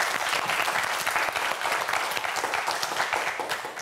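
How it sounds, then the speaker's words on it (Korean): Studio audience on a Korean TV quiz show applauds three student contestants before their final round, a dense, steady wash of many hands clapping at full volume throughout. "마지막 도전을 앞두고 있는 우리 세 학생 모두에게 큰 박수 부탁드립니다"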